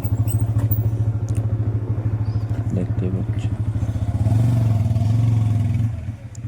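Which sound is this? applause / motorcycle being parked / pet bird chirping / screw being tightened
motorcycle being parked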